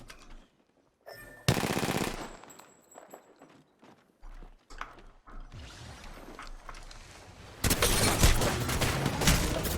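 Gunfire in the Apex Legends video game comes as bursts of rapid, clattering shots, loud and close, with quieter gaps and mechanical sounds between them.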